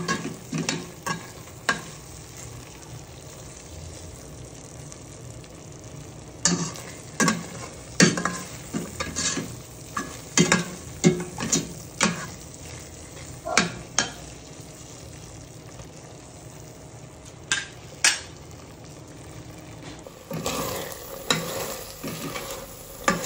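Macapuno cooking in a pan as the broth is reduced, with a spoon scraping and stirring in repeated uneven strokes over a soft steady sizzle, close and fairly quiet, with no voices.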